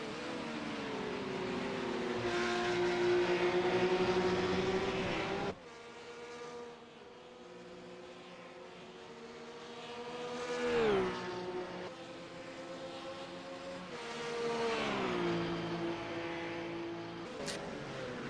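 Race cars lapping the Road America circuit during the final lap of a 12-hour endurance race, engines sustaining a steady, loud drone that drops, then rises again in pitch as cars pass, with no talk over it.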